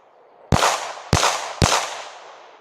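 Three loud, close gunshots crack in quick succession at a shooting range, each with a ringing tail; there is no talking.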